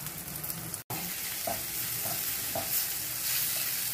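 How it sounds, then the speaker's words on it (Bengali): Potatoes sizzle in hot oil with spices while a spoon stirs them in a few scraping strokes, close, steady and alone. "এবার আলুগুলো দিয়ে ভালো করে একটু নাড়বো।"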